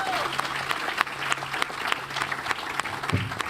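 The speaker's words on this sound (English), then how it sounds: "We'll have a round of applause for our" Steady clapping from an audience at a tech conference fills the room, with a voice briefly audible at the end.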